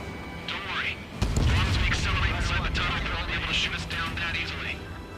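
An explosion blows up a tent in Ace Combat 7, a loud low boom bursting in and rumbling on beneath game audio, with a voice speaking over it.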